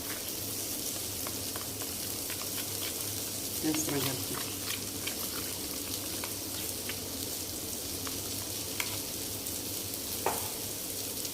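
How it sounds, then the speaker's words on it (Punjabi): Dhaba-style dum aloo being stirred in a pan with the gas turned off, giving a steady low sizzle with scraping stir noises throughout and a brief louder burst near the middle. "ਇਹਨੂੰ ਆਪਾਂ ਨਾ ਹਿਲਾ ਕੇ ਰੱਖ ਹਿਲਾ ਲੈਨੇ ਚੰਗੀ ਤਰ੍ਹਾਂ"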